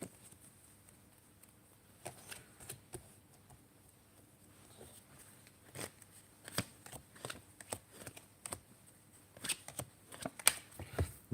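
Brisk riffling bursts of playing cards being shuffled, a few separate shuffles spread across the clip, close and fairly quiet against a low background hum.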